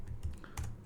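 Keys clatter on a computer keyboard in a short, close burst of a few quick presses, quiet and with no talking.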